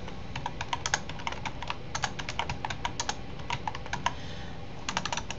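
Steady typing on a computer keyboard: close, crisp key clicks in quick irregular bursts with brief pauses, alone without speech.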